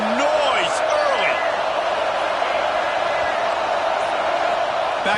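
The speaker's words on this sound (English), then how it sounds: "This crowd bringing the energy and noise early." Football stadium crowd roaring in a continuous, dense wash of noise, with a commentator's voice talking over it throughout.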